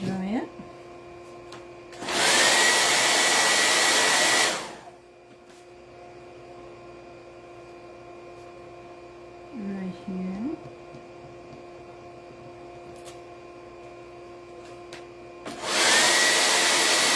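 A hair dryer blows on craft paint for a patriotic stars mantel project, two loud steady bursts of about two and a half and one and a half seconds, with brief speech between them.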